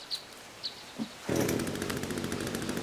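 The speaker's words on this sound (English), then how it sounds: "As you can see, the chainsaw's a pretty nifty bit of kit." A chainsaw revs up in the video game The Forest, a loud sustained buzzing roar that kicks in abruptly after a few faint clicks and holds steady.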